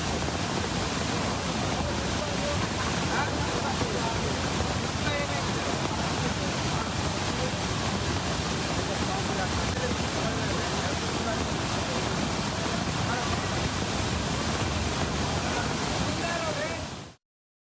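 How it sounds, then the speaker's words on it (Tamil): Heavy water pours over Hogenakkal Falls after a rise in river inflow, a loud, steady broadband roar that stays constant and close throughout, with no voices. "இதனால் அருவிகளில் தண்ணீர் கொட்டுகிறது."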